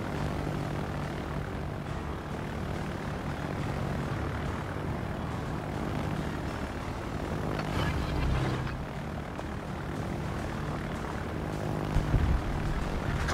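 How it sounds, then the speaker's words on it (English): A fighter plane takes off in a naval combat video game, its propeller engine droning steadily at moderate level with a brief swell midway and a short thump near the end. "Fighter airborne."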